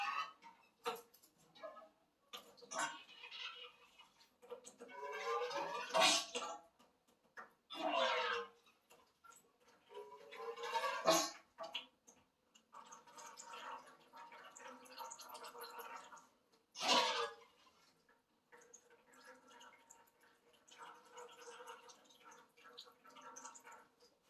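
Fork oil from a Suzuki DR650's front suspension is poured slowly into a bucket set inside another bucket, making faint intermittent dribbles, drips and glugging splashes over a quiet background.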